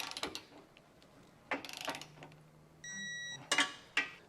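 A torque wrench is used while tightening hitch bolts for a hidden rack receiver on a 2023 Audi, with several close metallic ratchet clicks and clunks in short bursts, plus a brief steady tone, and no talk.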